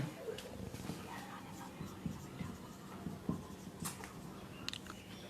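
Faint scratchy strokes of writing on a board during a surface chemistry lesson on enzyme catalysis, with soft, irregular taps and scrapes in a quiet room.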